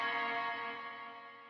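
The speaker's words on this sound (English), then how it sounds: "I turned on the reverb pedal here too, which is a cool one" A guitar chord rings through a reverb pedal set to a light mix, a single sustained strum that decays smoothly with a roomy wash trailing off.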